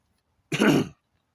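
A single abrupt throat clearing with a rough cough quality, close and fairly loud, lasting under half a second and followed by silence.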